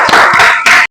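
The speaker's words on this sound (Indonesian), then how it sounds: "Beri tepuk tangan." A small group claps briefly after a physics class presentation, a short burst of dense hand claps that pauses and resumes for under a second, close and fairly loud.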